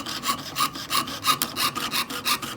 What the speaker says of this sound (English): saw right into the edge, and there you go